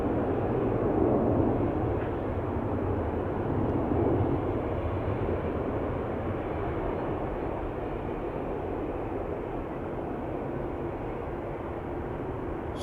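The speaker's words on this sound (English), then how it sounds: "A330 taking off from runway center" Airbus A330 airliner taking off from the center runway at Amsterdam Schiphol Airport, a steady distant engine roar that rumbles on throughout and fades slightly toward the end.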